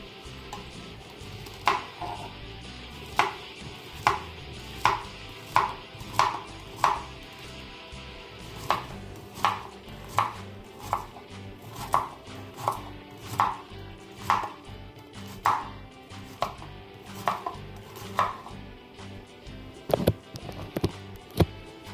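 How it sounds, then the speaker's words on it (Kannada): Bitter gourd being cut into small pieces with a knife on a board, about twenty sharp, evenly spaced chops in a steady rhythm, close and clear with no talking. "ಮೊದಲಿಗೆ ಹಾಗಲಕಾಯಿನ ಕಟ್ ಮಾಡ್ಕೊಳ್ಳೋಣ"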